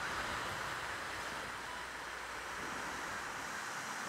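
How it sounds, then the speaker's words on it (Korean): Steady, broadband wash of ocean surf rolling in continuously at a seaside spot, soft and even throughout with no voices. "와 이거 파도 소리 나는 거 최고다."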